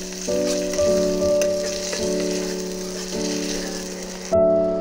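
Potatoes fry in a pan with turmeric and cumin powder, giving a steady, moderate sizzle with tonal ringing and a few stirring knocks throughout.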